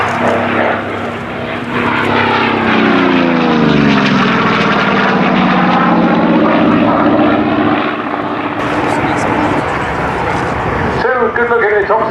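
A Fleet Air Arm propeller warplane in 1850 Squadron colours flies past at an air day, its loud engine drone rising and falling in pitch as it passes, with a commentator talking over it.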